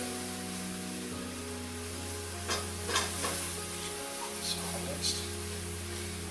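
Half and half drizzled into a hot pan of beef tenderloin stroganoff over lowered heat, with soft sizzling and a spoon stirring in steady, gentle scrapes under a constant low hum.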